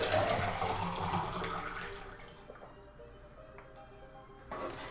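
Tap water pours into a kitchen sink or bowl while vegan brownies are being made, a loud steady rush that fades and thins after about two seconds, ending with a brief splash.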